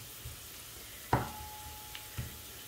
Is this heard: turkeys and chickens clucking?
no